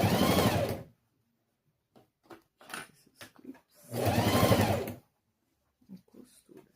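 A sewing machine stitches a fabric pencil case in two loud, steady bursts of about a second each, with soft handling clicks and rustles of fabric between and after them.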